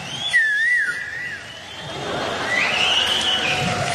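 A human whistle imitates the call of a koel, rising and warbling in two clear, close phrases.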